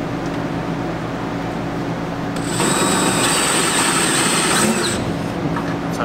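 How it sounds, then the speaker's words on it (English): A hole saw grinds through spot welds on a 1964 Ford Falcon body, the steady shop noise rising into a loud, continuous whining cut for a couple of seconds before stopping. "This is our little hole saw that's meant for drilling out spot welds."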